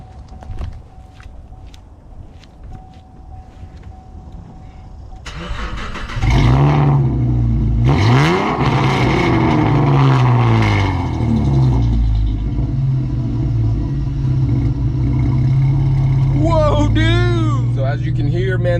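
A Chevrolet Camaro with an aftermarket exhaust starts up after a quiet stretch, then settles into a loud deep rumble with several rising revs, while someone talks over it.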